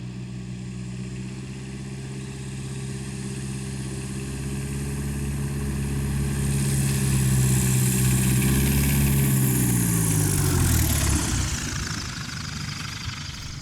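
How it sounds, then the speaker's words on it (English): A small airplane engine drones steadily during a landing approach, its pitch and power rising smoothly and then easing off with the throttle, continuous and fairly loud with no talking over it. "Listen to what I'm doing with the throttle on this one. The power changes, they're smooth."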